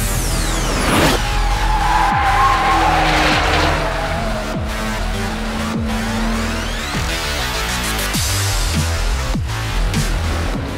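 A 2017 Porsche 911 Turbo laps the Kyalami circuit in South Africa. The engine revs loudly and climbs through the gears with repeated rising pitch sweeps and gearshifts, heard close and alone.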